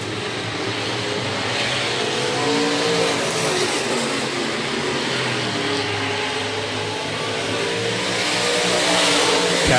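Stock cars and late models race around Rapid Speedway in the closing laps of a feature, a steady, continuous engine roar that swells slightly toward the end, with no talk over it.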